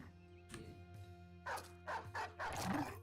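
A dog barks in a video game, several short yips and barks in an irregular cluster over a faint tonal game background, with a brief whimpering bark near the end.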